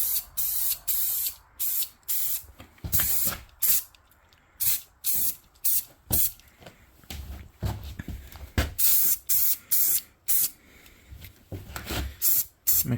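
A can of spray paint is used on a propane tank, giving a series of short, close hissing bursts separated by brief pauses.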